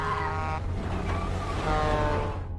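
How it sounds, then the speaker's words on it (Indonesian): A car nearly struck by a large truck in a film scene, heard as a steady loud roar of engine and road noise with a tonal hum, building slightly toward the end, with no talk. "Hampir saja mobil mereka terseruduk truk besar itu."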